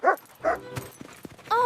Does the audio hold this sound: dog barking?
yes